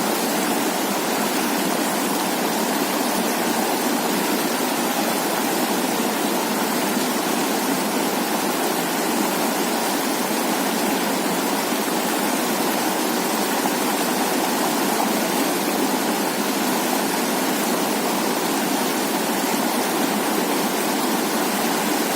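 A Himalayan mountain stream on the Kashmir Great Lakes trek rushes past in a constant, dense roar of flowing water, loud and unbroken without any pauses or voices.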